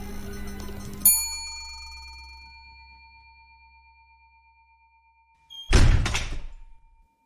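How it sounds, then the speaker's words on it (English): A hotel door slams shut with a single loud thunk, followed by a fading ringing tone, then a second heavy burst of banging and rattling a few seconds later. "The doors slammed shut"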